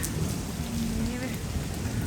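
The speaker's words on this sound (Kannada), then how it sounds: "ಮಳೆ ಬರ್ತಾ ಇದೆ" Steady rain falls in a continuous, dense hiss that stays even throughout, fairly close and with no pauses.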